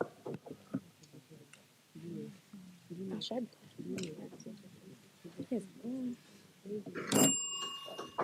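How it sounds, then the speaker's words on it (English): Several voices talk and murmur during a school quiz contest, then a single sharp buzzer bell ding rings out near the end and lingers briefly. "Who rang the bell?"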